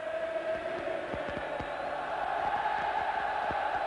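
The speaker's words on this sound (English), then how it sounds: "there's a better response from the crowd now" Football stadium crowd at an Inter versus Bologna Serie A match, a steady distant roar of many voices with scattered shouts and cheers, no single voice standing out.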